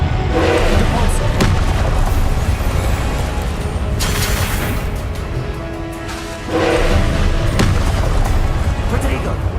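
Repeated Depulso force-push spells in Hogwarts Legacy, heavy booming magical blasts in close succession amid other game combat effects.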